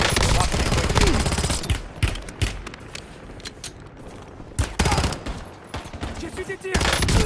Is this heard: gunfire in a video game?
yes